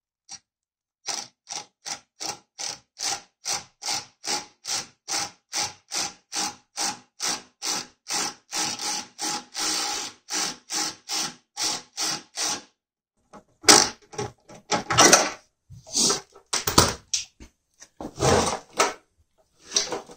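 A hand riv nut tool sets a rivet nut on bolt-on parts for an LS swap in a Rocket Bunny GT86: about two dozen evenly paced clicking squeezes, then a few louder, irregular clunks and snaps as it finishes.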